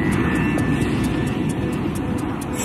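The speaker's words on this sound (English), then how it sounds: "he tries to restart the right-hand engine with a windmill start, using the plane's speed to spin up the engine blades" An airliner's right-hand jet engine is turned by airspeed during an attempted windmill restart, a loud steady roar with rushing wind noise and a faint thin whine, continuous and without talk.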